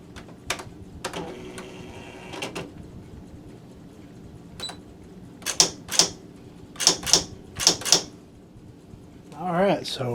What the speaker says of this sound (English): so typewriter is back in order